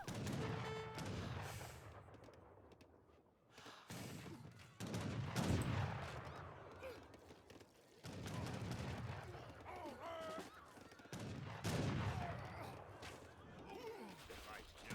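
Bursts of gunfire and explosive blasts from a town centre firing in a late-game strategy battle, coming in dense waves with brief lulls between them, while a commentator's voice talks continuously over the action.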